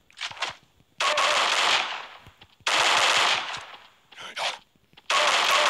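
Rapid automatic gunfire in a video game, loud and close, coming in several long bursts separated by brief pauses, with no talking.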